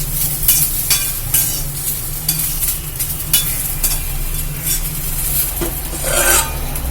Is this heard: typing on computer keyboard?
no